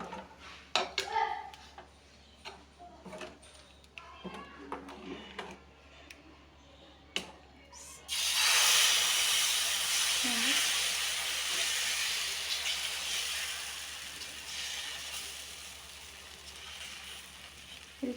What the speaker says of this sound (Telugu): ఆయిల్ వేసుకున్న తర్వాత దోశ వేసుకోవాలి